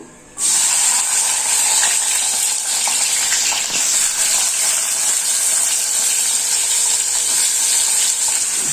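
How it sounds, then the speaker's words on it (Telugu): Mushrooms hit hot oil for a masala curry, bursting into a loud, steady, close sizzle after a brief quiet moment, the frying hiss holding continuously to the end. "ఆయిల్ హీట్ ఎక్కింది ఇప్పుడు ఈ ఆయిల్లో వేసేస్తున్నాము"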